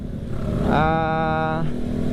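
A motorcycle moves through Jakarta commuter traffic during the morning rush, with a steady engine drone and a rising rev tone that holds for about a second over dense road noise.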